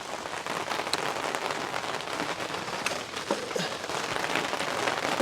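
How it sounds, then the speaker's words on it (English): Steady rain falls during a Wisconsin rainstorm, a dense, even patter of drops on surfaces continuing without pause, fairly close and moderately loud, with no talking. "A little Wisconsin rainstorm for you."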